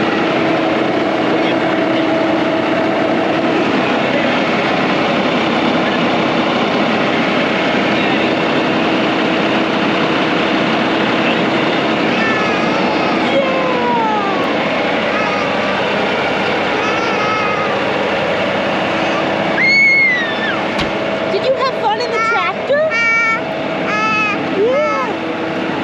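A rebuilt Cub tractor engine idles with a steady, loud droning rumble throughout, with birdsong chirping in the later part.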